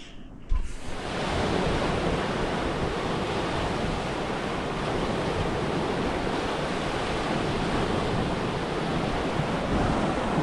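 Steady wind and breaking surf roar continuously at a beach campsite on the Eyre Peninsula, a loud, broad wash with gusty microphone buffeting and no pauses.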